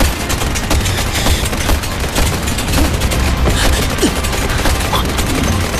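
Gunfire erupts in a drama action scene, a dense fusillade of sharp cracks and booms layered over loud noisy background, continuous and close throughout.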